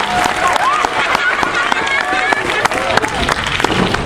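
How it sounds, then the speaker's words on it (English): An audience at a seal show at Port Elizabeth's Bayworld claps for Lucky the seal, a busy wash of many hands with crowd voices and chatter running over it the whole time. "I think we can give Lucky a round of applause for that one"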